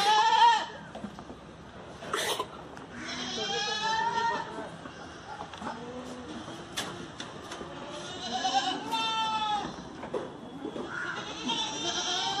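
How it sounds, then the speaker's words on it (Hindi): Boer goats on a farm in Phaltan, Maharashtra bleating repeatedly, several overlapping calls near and far at irregular intervals, with a person speaking briefly among them. "बकरी हो"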